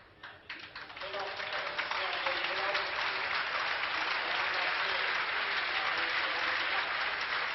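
Sustained crowd applause for a departing player at a 1972 USA versus Europe basketball all-star game, rising within the first second and staying steady and dense throughout.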